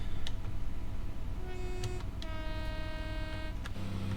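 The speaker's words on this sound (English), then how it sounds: "And that horn as well is just top notch." A loud, steady train horn in the Train Sim World 2 video game blares in sustained chords over a constant low rumble of train noise, cutting in and out a few times.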